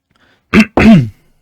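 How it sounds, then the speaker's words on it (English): Two short, harsh bursts close to the listener, like a throat being cleared or a quick cough, with silence before and after. "Sorry if my coughing is too loud."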